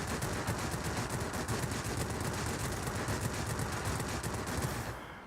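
Cannon fire from an La-15 jet fighter in a flight combat game, a steady, continuous rapid rattle of guns over roaring engine noise that cuts off abruptly at the end.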